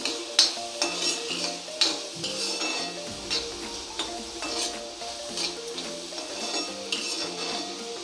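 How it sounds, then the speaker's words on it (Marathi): Chopped tomatoes being stir-fried in a pan for a spicy Malvani prawn masala, with a soft sizzle under repeated scraping and clinking strokes of a spatula at an uneven rhythm, close up, no voices. "जे टोमॅटो आहेत हे आपण चिरून घेतलेले होते, ते आपण ह्यात टाकणार आहोत। व्यवस्थित परतून घ्यायचे।"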